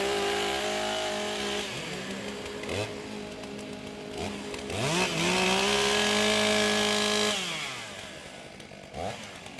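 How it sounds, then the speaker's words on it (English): STIHL chainsaws revving as they warm up at a women's timbersports championship, several loud buzzing engines rising and falling in pitch together, close and continuous throughout. "Warm up your saws."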